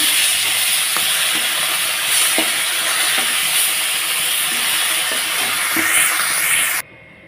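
Small fish frying in hot oil give a steady, loud sizzling hiss with faint scattered pops, holding constant before cutting off abruptly at the end.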